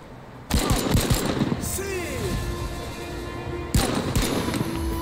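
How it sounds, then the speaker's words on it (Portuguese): Gunfire in the video game Narcos: Rise of the Cartels, two bursts of rapid, close, loud shots separated by a stretch of quieter game sounds and a tonal whine. "Dá um tiro bônus"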